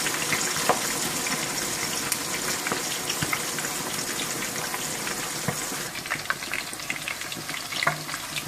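Chicken charga fries in hot oil with a loud, continuous crackling sizzle, sprinkled with small pops and faint utensil clicks, and no one talking.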